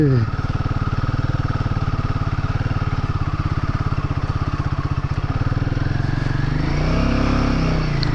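Motorcycle riding on a muddy monsoon road with its wheels slipping, a close, steady engine throb that shifts pitch near the end as the rider works through the mud.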